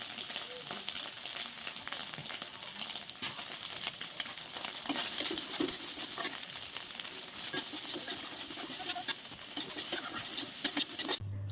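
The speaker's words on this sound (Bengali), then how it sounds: "সোয়াবিনটা ভেজে নিয়েছি" Soybean chunks frying in oil as they are stirred, a continuous close crackling sizzle with frequent scratchy spatula strokes and patter, fairly quiet overall.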